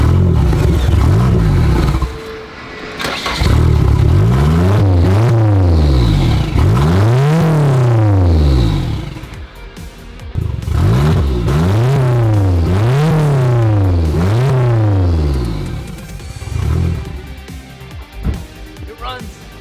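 Nissan 240sx engine firing up for the first time, repeatedly revving in rising and falling surges that won't settle to an idle, with a person's voice heard in between.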